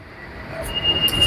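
A metro train rolls into an underground platform at Whitefield station, a building rumble with thin wheel squeal and rail noise growing louder as it approaches, with no talk over it.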